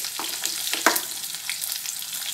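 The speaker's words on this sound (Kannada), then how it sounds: "ಈಗ ನಾನು ಉಳ್ಳಾಗಡ್ಡೆ ಕಟ್ ಮಾಡಿ ಇಟ್ಕೊಂಡಿದ್ನಲ್ಲ ಅವನ್ನ ಹಾಕ್ತಿದೀನಿ" Chopped onions hitting hot oil in a frying pan, a steady close hiss with a few brief crackling bursts, no voices.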